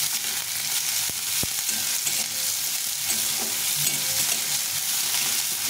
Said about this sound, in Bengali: প্রথমে পেঁয়াজটা দিয়ে দেবো। পেঁয়াজটা একটু ভেজে নেব।